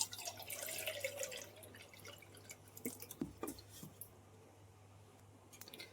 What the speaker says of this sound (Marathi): पाणी सर्व ओतून घेतलं मी